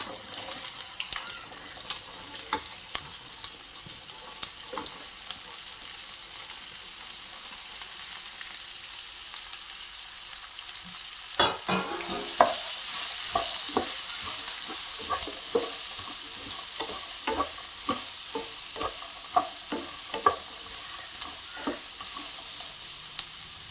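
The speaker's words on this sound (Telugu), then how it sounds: "మంచిగా ఫ్రై చేస్తూ కలుపుతూ ఫ్రై చేస్తూ ఉండాలండి." Cut okra pieces with turmeric fry in a pan, a low hiss at first that swells into a steady brighter sizzle midway, dotted with small clicks and scrapes of stirring, and no voices.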